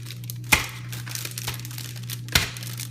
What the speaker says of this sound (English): What I'm going to do is I'm going to put the cards in the bag.